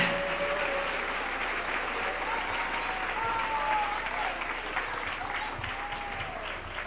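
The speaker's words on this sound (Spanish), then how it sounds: "Dele un aplauso al Rey." A church congregation applauds during an evening service, a dense, steady wash of clapping from many hands that holds for the whole stretch, with a few faint voices rising over it.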